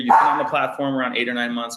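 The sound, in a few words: dog barking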